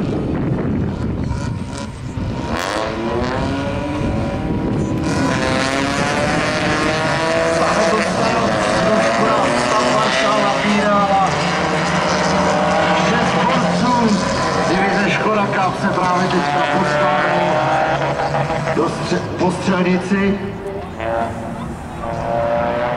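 Rallycross race cars at the Rallycross Cup in Sedlčany rev loudly on the start line and launch together, a dense, sustained engine roar with rising and falling pitch that fills the whole stretch.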